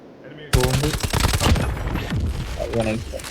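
Rapid bursts of automatic gunfire crackle in a Call of Duty Mobile Search and Destroy match, loud and dense for about a second before thinning out, while voices talk over the shots.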